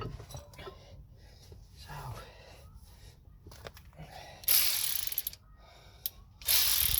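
Hand ratchet tightening Ford Fiesta Mk6 brake caliper bolts, quiet close clicking in short bursts with a louder rasp of ratcheting near the end.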